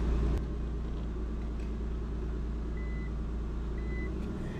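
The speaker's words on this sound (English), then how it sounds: "It's a buzzer to let you know you're in reverse" Two short, thin electronic beeps of the reverse warning buzzer sound a second apart inside a right-hand-drive R34 Nissan Skyline fitted with a 350Z manual transmission, over a steady low engine rumble.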